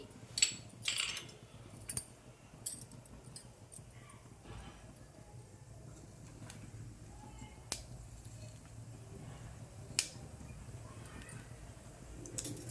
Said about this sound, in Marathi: मोहरी तडतडली की जिरे